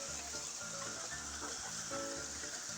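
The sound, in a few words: rain falling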